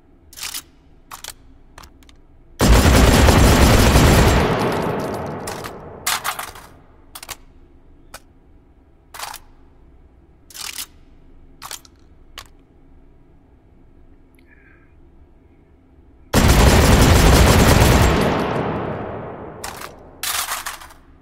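Shotgun in the H3VR virtual reality game: two loud blasts with long decaying tails, separated by many sharp mechanical clicks and clacks of handling and reloading, no speech.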